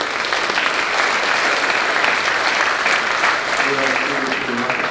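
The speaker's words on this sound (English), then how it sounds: "how about a round of applause for all those folks?" Audience applause at a spring high school music concert, a loud sustained wash of clapping from a crowd, with a voice beginning to talk near the end.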